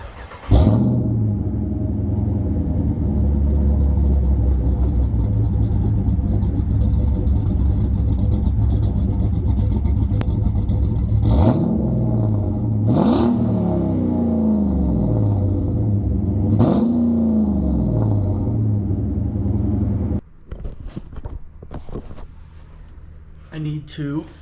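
A car engine with a Flowmaster exhaust idles with a deep exhaust rumble, then revs up sharply three times before settling and cutting off amid some clatter.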